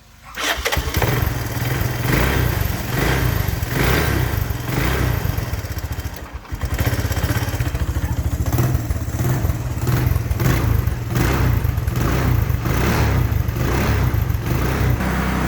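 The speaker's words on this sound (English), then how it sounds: "Starter button. Cold start. Going to give it a little throttle." A 1983 Honda 200e three-wheeler cold starting: the starter cranks, the single-cylinder engine catches and runs with a loud rattling idle, dips briefly near the middle, then keeps chugging steadily with throttle blips.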